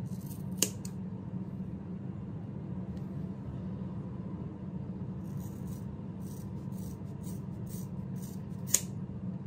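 Scissors cut hair in a few sharp snips, one near the start and one near the end, with lighter snipping sounds just before the last cut, all over a steady low background hum.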